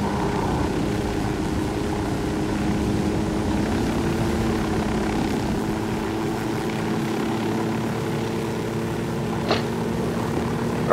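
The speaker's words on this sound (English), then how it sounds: "Yep, just get the chopper." A helicopter in the video game Ghost Recon Wildlands flies with a steady, loud rotor and engine drone that holds for about eleven seconds with no speech.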